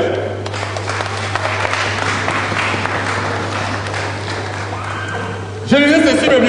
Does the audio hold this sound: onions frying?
no